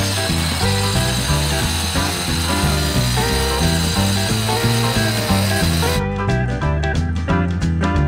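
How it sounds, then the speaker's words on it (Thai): A loud circular saw with a masonry blade grinds steadily through fiber cement board, a continuous harsh whine that cuts off near the end, leaving rapid rattling bursts. "วันนี้ของผมก็จะใช้เลื่อยวงเดือนแบบนี้นะใส่ใบตัดปูนนะครับ"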